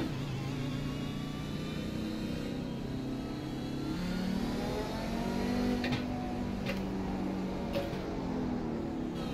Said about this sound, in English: That noise of that car is biblical, really.